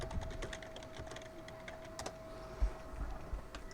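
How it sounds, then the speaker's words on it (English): Keys typed on a computer keyboard, a fast irregular patter of light clicks at moderate distance, with a faint steady hum underneath and no talking. "He's typing."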